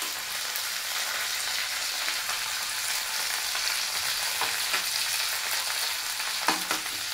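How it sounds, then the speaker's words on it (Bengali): Curry leaves and dried chilies frying in oil, a dense even sizzle that holds for the whole stretch, close and fairly loud, with a few faint clicks of a utensil near the end and no talking. "শুকনো লঙ্কা তেলের মধ্যে দেওয়া হয়েছে।"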